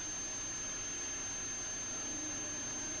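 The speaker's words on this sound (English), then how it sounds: "This is a jet plane." A jet plane engine gives a steady, even roar with a high sustained whine running through the whole stretch, uniform and unbroken, with no voices.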